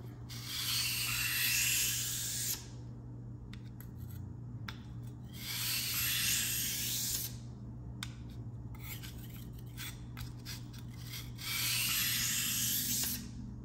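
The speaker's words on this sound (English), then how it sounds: "you've got the angle guide on there, and you run it across the stone" Repeated rasping strokes of a knife drawn across a sharpening stone with an angle guide attached, coming in three long bursts with quieter scraping and clicks between them, close up and with no talk.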